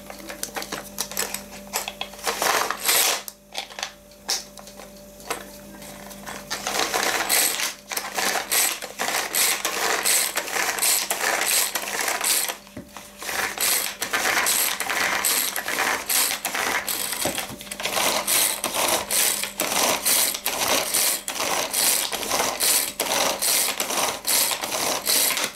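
A cheap manual hand grinder is cranked and grinds, giving a continuous fast clicking, ratcheting rattle that runs close and loud with a few brief pauses, no talking.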